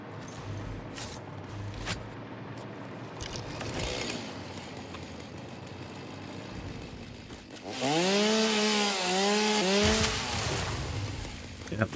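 A chainsaw cuts down trees in the factory-building game Satisfactory. A quiet stretch of small clicks and movement comes first, then the saw starts loud and drones for a few seconds with wavering revs before cutting off.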